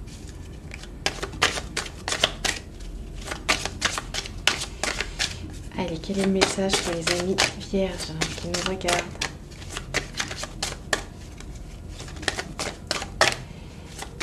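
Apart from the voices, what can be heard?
shuffling tarot cards for a reading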